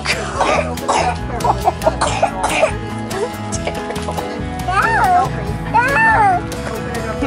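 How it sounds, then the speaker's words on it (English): A small child coughs in a series of short, sharp bursts at a birthday outing, close and fairly loud. High childish vocal sounds are mixed in between the coughs. "here, let me cough in your face and walk away."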